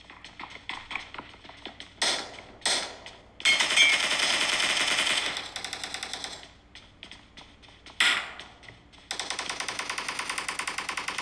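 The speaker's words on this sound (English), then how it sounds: "you can hear all those gunfires and shots" Rapid bursts of video game gunfire and single shots play through the speakers of an iPhone 13 Pro Max, with fast rattling volleys, short pauses and sustained automatic fire, loud and close with no talk.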